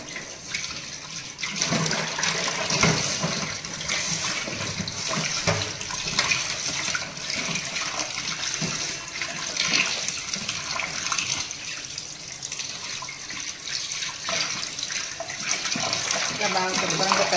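Tap water runs steadily as fish pieces are rinsed by hand in a kitchen, a continuous splashing gush with small clatters and shifts in flow throughout.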